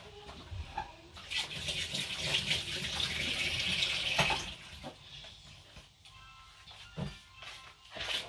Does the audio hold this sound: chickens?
no